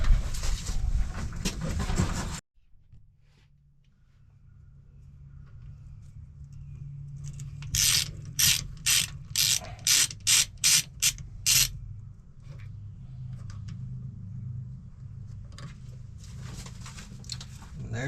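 A socket ratchet wrench is used on a dump truck, giving a quick run of sharp rhythmic clicks over a low mechanical hum, with quieter handling noises before and after.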